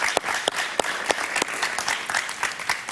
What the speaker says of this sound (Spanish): Un aplauso para Eduardo, por favor.